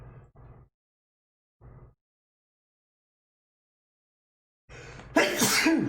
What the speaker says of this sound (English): Oh god, I might sneeze again.